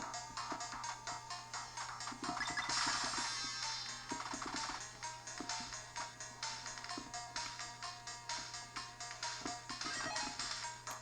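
Busy, warbling electronic music from the game Jim Power on a Soulja Boy handheld console, bright chiptune tones and steady rhythmic pulses, slightly unsteady in pitch, playing continuously at low volume.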